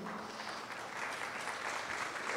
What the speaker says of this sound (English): Clap for Gulam Dastgir, not for me